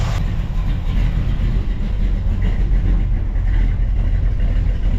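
Worn old 350 V8 in the car Creampuff runs at a steady idle, a continuous low rumble that stays loud and even throughout with no talking.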